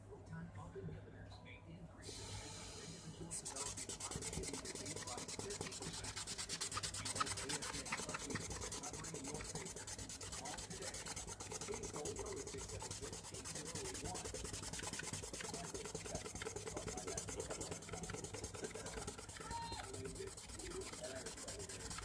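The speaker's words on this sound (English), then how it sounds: "when you're sanding this plastic, you have to hold the sandpaper in one spot for so many seconds to really grind down in there and smooth it" Sandpaper rubbed against plastic makes a continuous, close scratchy rasp that holds steady for a long stretch without pause.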